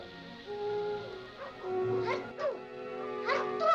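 Small dog whimpering and yipping in short, rising whines, fairly close and moderately loud, with a few brief sharper yips toward the end.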